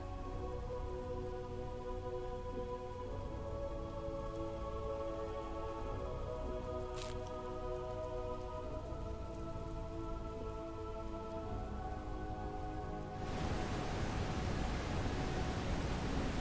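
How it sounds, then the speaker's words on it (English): Steady rain ambience in the video game Cauldron Chronicles, a continuous hiss of falling rain over a low tonal bed, swelling louder and brighter near the end; no distinct thunder stands out. "you'll hear the rain and thunder just a little bit"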